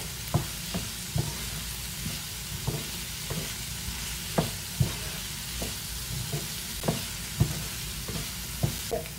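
Puttu mix being sautéed and stirred in a pan on a stove over lowered heat, a soft steady sizzle broken by regular scraping strokes of a spoon, close and fairly quiet, with no talking.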